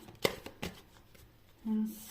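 Tarot cards are shuffled by hand in a few quick riffling bursts and soft slaps, close and fairly quiet, with a brief voiced hum near the end.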